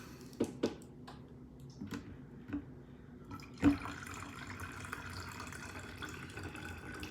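Apple juice poured into a 32-ounce spray bottle with apple cider vinegar to make a spritz for baby back ribs. A few light clicks and taps come first, then a steady, soft splashing pour continues to the end.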